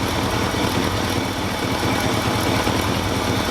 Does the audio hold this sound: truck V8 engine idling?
yes